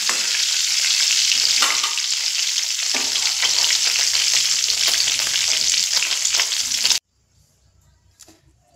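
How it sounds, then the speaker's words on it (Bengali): Prawns frying in oil over a medium flame, a steady dense sizzle with stirring clatter that runs loud for about seven seconds and then cuts off to near silence with a faint clink. "বাকি যে চিংড়িগুলো আছে একইভাবে আমি ভেজে নেব"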